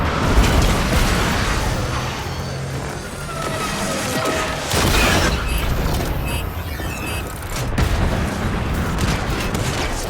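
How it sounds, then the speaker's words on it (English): A cruise ship reactor detonating in Warframe's Railjack space combat, a loud sustained roaring blast with crackling bursts and rumbling debris that swells again midway and near the end, with no talk over it. "Cruise ship reactor has detonated."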